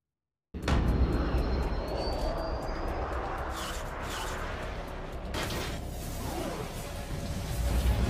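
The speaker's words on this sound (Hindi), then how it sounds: "यह है अमेरिका के लड़ाकू विमान F-16 की ताकत।" An American F-16 fighter jet roars by, its loud engine noise rising sharply after a brief silence and holding as a sustained rush of thrust with a swooshing pass.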